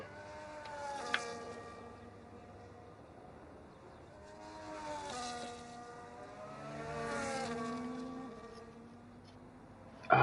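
An Aston Martin race car engine in a racing video game, set at Abu Dhabi, revs up and down in a couple of long rising and falling swells, moderately loud with no talking.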